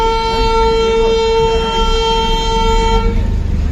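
A Darjeeling train horn sounds as trains depart: one sustained, tonal toot lasts about three seconds and then cuts off, leaving ambient station noise.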